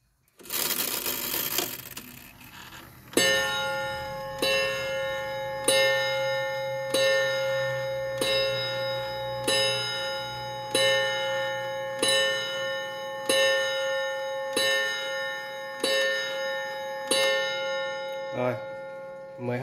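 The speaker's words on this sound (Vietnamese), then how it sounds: "đồng hồ sẽ đánh 12 tiếng chuông nhé" A vintage Japanese Seiko Sonola transistor wall clock strikes twelve evenly spaced, ringing chime strokes about every second and a half. Each stroke decays slowly. A brief burst of handling noise comes before the first strike.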